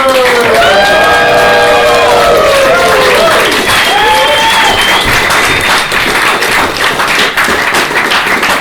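Theatre audience at an improv show in Glasgow bursts into loud, sustained applause with cheers and whoops, a dense crowd wash filling the room while a host's voice rises over it early on.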